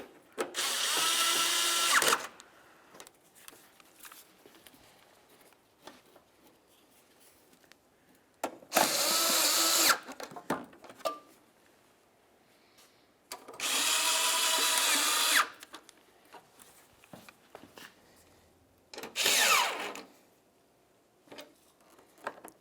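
A power drill whirs in four short bursts, snugging up 10mm bolts while replacing a 2007-2012 Nissan Sentra headlight, with quiet clinks and handling noise in the gaps between.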